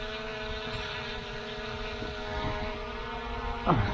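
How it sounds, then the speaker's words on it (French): An XIL 193 Max 2 drone (ZLL SG906 Max 2) in rocket mode gives a steady, droning rotor hum that holds throughout, close and moderately loud, with a brief louder swell near the end. "Là le drone fait son mode roquette."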